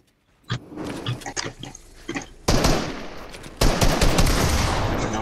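Loud, close automatic gunfire in a first-person shooter video game, starting with scattered single shots and then breaking into long continuous bursts.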